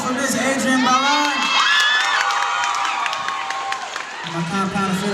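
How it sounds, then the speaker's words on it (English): An event crowd cheers for a guest with whoops, shouts and high excited voices, loud and close, mixed with some clapping and speech that rise and fade across the clip. "One time, please, round of applause for Miss Adrienne Ballard."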